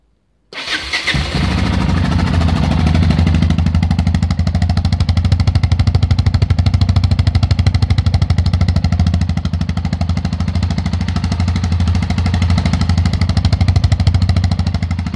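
A Yamaha Ténéré 660 motorcycle with a new exhaust tip fires up abruptly after a brief silence, then settles into a loud, close, steady idle with a deep, throbbing pulse.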